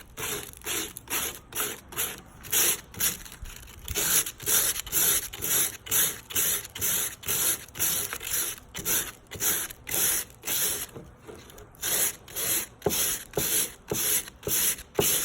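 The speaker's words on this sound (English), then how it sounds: "You want to sand in one direction." Chalk-painted furniture edges being hand-sanded in one direction to antique them, a steady rhythm of close, loud rasping strokes, roughly one per second, alone without talk.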